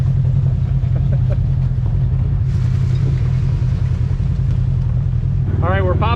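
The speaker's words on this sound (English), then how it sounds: "we're popping it into low gear and we're scrambling through a little canyon thing here" An RV engine in low gear rumbles loud and steady at close range while it scrambles off-road through a canyon, with someone talking over the drone.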